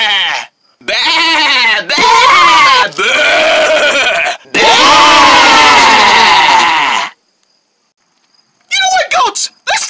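A voice imitates goat bleating with a run of loud, drawn-out wavering baa calls, then a silent gap and a few short clipped bursts near the end.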